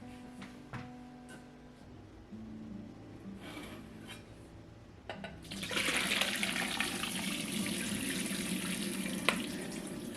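Tap water running hard into a sink while blueberries are rinsed, a steady loud rush that starts suddenly partway through after quieter kitchen handling sounds.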